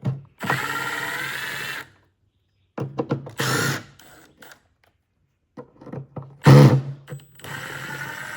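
A power drill with a TX20 Torx bit backs screws out of a headlight mounting plate on a 2015 Ford Mustang 3.7L V6: a long whirring burst, then several shorter spins and a final loud burst, close up with no talking.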